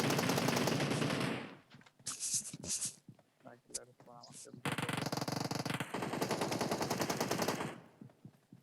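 Rapid automatic gunfire in a shooting video game, dense bursts at the start and again in the second half, broken by quieter stretches with scattered shots and talk.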